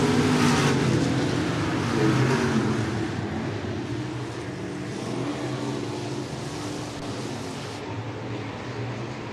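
Stock cars racing at Clay County Speedway, a steady loud roar of several engines that swells as the pack comes through turns 3 and 4, then settles into a broad continuous drone.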